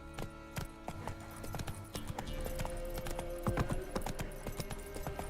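Roach, Geralt's horse in Witcher 3, trots up with steady hoof clip-clops that grow closer over a few seconds, layered with game ambience and music.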